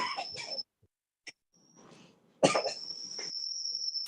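A few short, sharp coughs up close, separated by brief pauses, with a faint high insect-like hum in the background.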